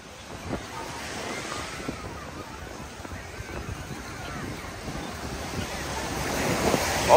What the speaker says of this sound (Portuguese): o mar tá lindo, a água tá bem azulzinho, galera. Praia de Boa Viagem.